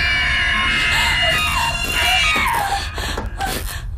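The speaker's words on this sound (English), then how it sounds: "they actually had Toshio sound as if he was screaming into a karaoke mic" High, strained child-like screaming from the ghost boy Toshio in a 2015 Japanese horror film, sounding thin and boxy as if yelled into a karaoke mic, loud and continuous throughout with a sustained wavering cry.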